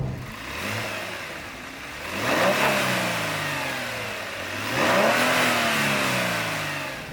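A 2020 Genesis G70 with a twin-turbo 3.3-liter gasoline engine making about 370 horsepower revs twice in succession, each blip rising and falling smoothly over a steady mid-pitched idle, heard clearly with no talking.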